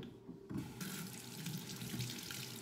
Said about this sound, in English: Wash your hands.